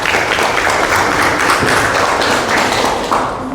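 A classroom group claps after a student's Quran recitation, a dense, steady round of hand clapping lasting several seconds, fairly loud and close, trailing off at the end with no talk.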